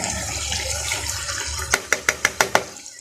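Lightly pre-boiled dal goes into a cooking pot with a soft wet slither, followed by six quick, evenly spaced taps of a utensil against the pot's rim, close and clear.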